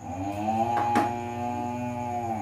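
A human voice imitates a cow's moo with one sustained, droning low call held for about two seconds, clear and close.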